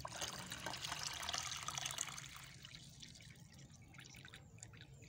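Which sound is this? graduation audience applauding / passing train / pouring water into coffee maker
pouring water into coffee maker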